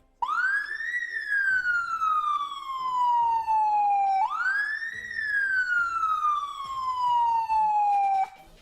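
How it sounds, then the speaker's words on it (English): The siren of a Mercedes-AMG Formula 1 medical car wails, rising and falling twice in slow sweeping cycles, loud and close, with no one speaking. "and the blue one, that's the siren"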